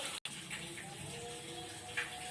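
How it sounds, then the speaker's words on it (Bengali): Goldfish for pakora are rinsed under running water: a quiet, steady splashing stream with a brief dropout at the start and a small gush near the end. "মাছটা ধুয়ে নিচ্ছি মাছ ধোয়া হয়ে গেছে"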